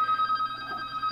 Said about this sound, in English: And now I'm going to have to pick up the phone.